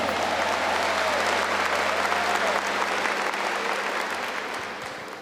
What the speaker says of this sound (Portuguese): Dá uma salva de palmas para o nosso Deus